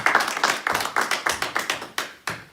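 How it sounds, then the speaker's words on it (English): An audience at a press conference claps their hands, a scattered patter of many claps settling into a quick, fairly even rhythm that trails off into a few final separate claps, close and fairly loud. "Can we just clap hands for those ones?"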